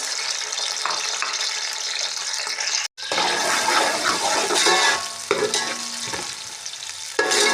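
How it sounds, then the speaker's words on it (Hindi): Chopped onions hit hot oil in a pan and break into a loud, steady sizzle after a brief pause, with stirring and scraping crackles running on close and continuous, no talking. "यहाँ पे हमारा ऑयल गर्म हो चुका है, इसमें हम शामिल कर देंगे प्याज"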